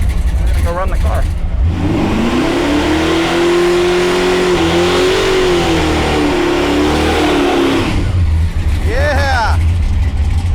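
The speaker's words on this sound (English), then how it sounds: "We're gonna do another burnout." A barn-find muscle car does a burnout, its engine revving hard and holding a loud sustained roar with wavering pitch; voices and shorter revs come before and after.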